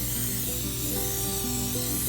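Coconut oil cooking spray hissing from a can, a continuous close, fairly loud spray lasting a couple of seconds.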